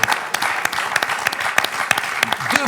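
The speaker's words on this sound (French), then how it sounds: "Ce qui s'applaudit." A television quiz show's studio audience breaks into applause, with sharp individual claps cutting through a steady wash of clapping for a few seconds. No voices come through.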